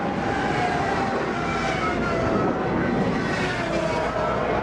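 A jet passes low over a racetrack during a 1985 CART race, its loud, steady roar filling the air throughout, broad and rumbling with no break.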